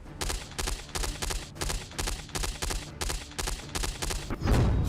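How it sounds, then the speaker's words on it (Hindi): Gunfire in Iran rattles in a steady series of sharp bursts, roughly two per second, loud and close, ending in a louder rumble. "ईरान में दनादन गोलियां चल रही हैं।"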